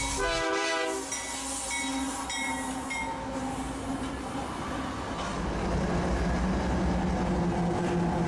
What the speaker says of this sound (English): a southbound oil train with Canadian power making way for the Alexandria sub races by our cameras